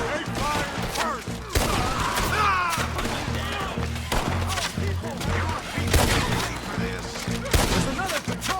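Gunfire crackles through a Red Dead Redemption 2 shootout, dense repeated shots and impacts with thuds and crashes layered under constant shouting voices and music, loud and busy throughout.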